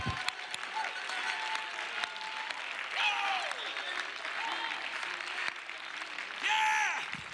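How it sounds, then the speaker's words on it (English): A church congregation applauds for a sustained stretch, the clapping dense and continuous, with voices calling out and singing over it. "Oh, come on, let's clap our hands."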